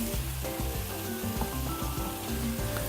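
Onion dropped into frying beef mince for spaghetti bolognese crackles and sizzles in a dense, continuous hiss with low rumbling bubbling underneath, close by and steady throughout, with no voices.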